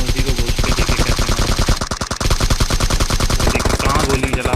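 Rapid automatic gunfire in a battle royale video game, loud and sustained in quick bursts with a brief pause midway before the shooting resumes.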